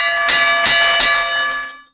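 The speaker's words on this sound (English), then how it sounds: "It's always good to have a bell." A small bell rung three quick times in a row, bright and metallic, its ringing tone fading out after the last strike.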